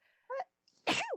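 Two sneezes in quick succession: a short sharp one, then a louder, fuller sneeze ending in a rising squeak, close and alone.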